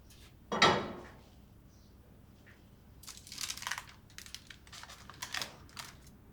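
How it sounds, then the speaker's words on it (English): Lid of a very hot Dutch oven lifted with a sharp knock, then crinkly rustling and shuffling as bread dough goes in, close and moderately loud. "It's very hot, so I'm gonna open this up and very quickly drop it in"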